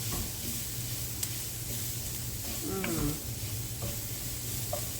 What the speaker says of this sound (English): we're going to give that a stir until we can just smell that garlic give off its fragrance